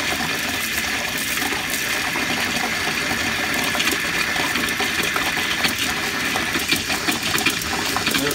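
Water and air forced through RV water lines during winterizing, a steady hissing, gurgling rush with a faint mechanical hum underneath, continuous and close throughout with no voices.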